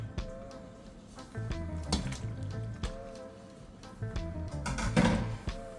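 Macaroni being stirred into a creamy cheese sauce for baked mac and cheese, with wet squelching stirs and scattered clinks of a utensil against the pot, moderately close and quiet.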